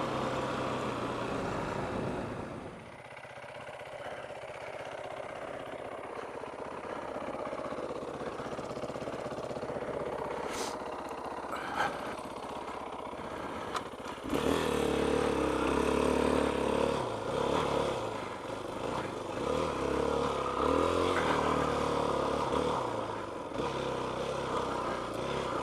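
A Yamaha WR450F dirt bike engine, cold with the choke on, runs with a rough idle and then revs louder toward the end, a steady close mechanical clatter and rumble without speech.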